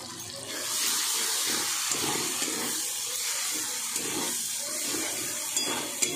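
Boiled lentils for dhaba-style tarka pour into fried masala in a pan, a steady rushing, splashing gush with a hiss beneath it, loud and close, lasting several seconds with no voices.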